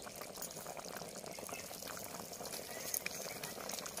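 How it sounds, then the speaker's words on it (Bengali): A pot of yam and snails simmers at a steady, faint rolling boil as leafy greens are added, with soft continuous bubbling and no voices. "এবার শাকটা দিয়ে দিচ্ছি।"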